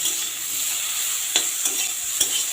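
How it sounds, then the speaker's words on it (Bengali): Boiled young jackfruit frying in a wok for a Bengali kalia curry, a steady close sizzle with a few sharp scraping stirs of a spatula, no voices. "ইঁচড়টাকে হালকা করে ভেজে নেবো খুব বেশি ভাজবো না"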